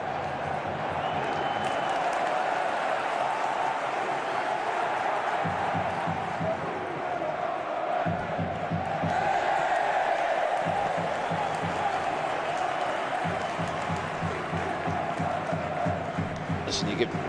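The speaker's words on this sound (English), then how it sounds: "You could hear the crowd get behind their team, going high and pressing them" Football stadium crowd at a Swansea City versus Sunderland match roaring steadily as Swansea press high, a dense, continuous wall of cheering and chanting with a commentator talking over it throughout.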